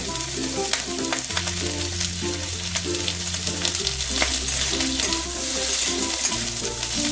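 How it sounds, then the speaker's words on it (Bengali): Chopped ginger, garlic and onion sizzle steadily in a hot frying pan while being stirred for a prawn dish, a continuous close frying hiss under a loud, steady bed of music. "আদা রসুনটা কয়েক সেকেন্ড একটু নাড়াচাড়া করতে করতেই আমি পেঁয়াজটাকে দিয়ে দেবো"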